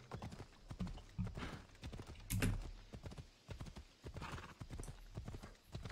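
Steady horse hooves clip-clopping in a video game, a quick rhythmic trot with a voice talking over it and some game noise behind.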